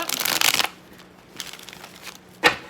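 Tarot cards being shuffled in two broad bursts: a long riffling rush at the start, a softer flutter midway, and a short sharp snap near the end, close and alone without talk.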